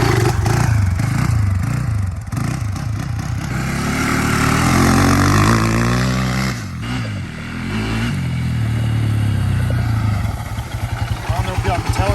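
A Polaris Predator 500 ATV engine revs up and down close by, a continuous rough, rising-and-falling drone with clattering, and it sometimes sounds like a voice.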